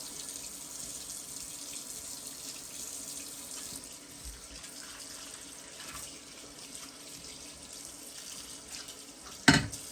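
Water runs steadily from a tap as a small item is rinsed under it at a camp in Maine, a continuous close splashing hiss with a sharp clatter near the end.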